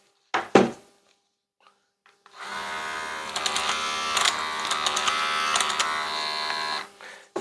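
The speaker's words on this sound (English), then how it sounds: "Once you've put oil on them, you want to run the machine." Electric hair clippers with freshly oiled blades switch on and run with a steady, fairly loud buzzing hum for several seconds after a couple of brief handling knocks, with no talking.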